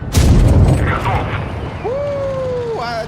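A tank cannon fires in the Tanks Blitz video game, a loud booming blast at the start that decays into rumble, followed by game interface tones.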